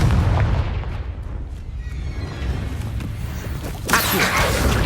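Confringo blasting spell in the game Hogwarts Legacy, a loud, rumbling boom that fills the scene, followed near the end by a fresh sharp burst, with no talking.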